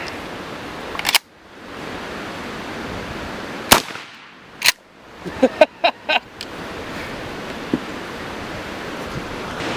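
Shotgun firing improvised wax slug ammunition in an 8-shot load, several sharp isolated reports spaced irregularly, followed by a quick cluster of smaller clicks and bangs over faint outdoor background.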